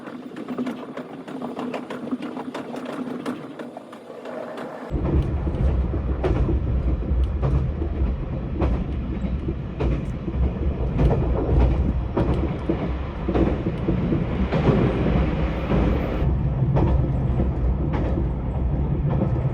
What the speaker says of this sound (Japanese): 列車は足立駅の手前を走行しています。